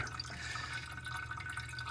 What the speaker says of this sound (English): You can see the water trickling through, even when I have this straightened out.